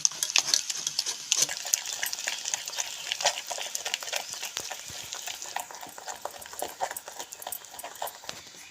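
Gram flour batter with water being whisked by hand in a bowl for crispy drumstick-flower fritters, a busy run of quick, light scraping and tapping strokes close by, with no talking.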